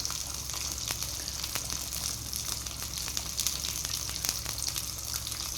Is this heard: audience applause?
no